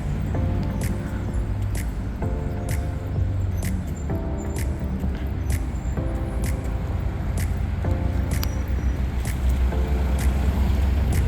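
A car arrives near houses, its engine holding a steady, close rumble while short chirping beeps repeat about every two seconds over it, with no talking.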